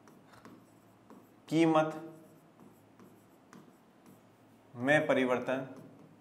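Pen strokes scratch on a board or paper during an economics lesson, quiet and intermittent. A teacher speaks in two loud bursts over them.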